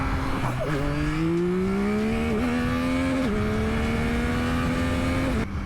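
A motorcycle engine pulls hard for a wheelie, its pitch climbing steadily through several gear changes, each marked by a brief dip, loud and close throughout with steady wind rush and no talking.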